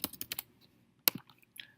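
Keys clack on a computer keyboard in a quick burst of four presses, then a pause and a few more scattered taps, close and crisp with no talking.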